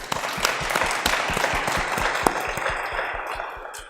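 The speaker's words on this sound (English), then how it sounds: "give them a round of applause" Panel discussion audience applauding the taxation panelists, a dense round of many hands clapping at steady volume throughout.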